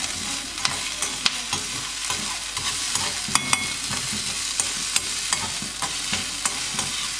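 Onion fries in a very hot pan, a steady close sizzle broken by frequent sharp clicks and scrapes as a spoon stirs it.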